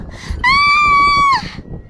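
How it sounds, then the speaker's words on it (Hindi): A woman's loud, sustained scream of terror in a Hindi horror story, one piercing held cry lasting about a second, rising sharply and cutting off, with faint low rumble beneath. "जिसे देख प्रीति चीखती है"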